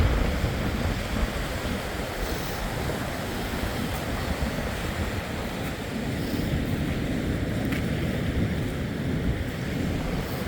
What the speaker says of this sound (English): And the tide is coming in right now, so we're kind of losing all of our beach over here.